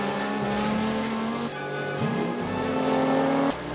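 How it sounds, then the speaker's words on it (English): A Lamborghini getaway car in The Simpsons speeds off with a loud revving engine whose pitch climbs in short surges between gear changes, with a hint of tire squeal. "thank frick Homer's getaway car is a Lambo"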